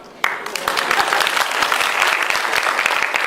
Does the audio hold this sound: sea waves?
no